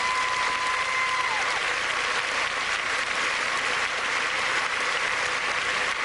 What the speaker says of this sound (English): Along with the applause of our audience